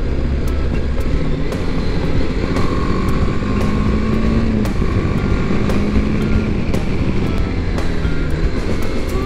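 BMW G310GS motorcycle cruising on an expressway, a loud, continuous engine drone mixed with heavy wind rush, steady throughout with slight shifts in pitch and no talk.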